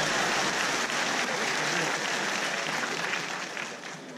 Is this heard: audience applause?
yes